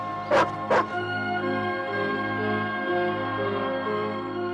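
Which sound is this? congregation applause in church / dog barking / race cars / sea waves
dog barking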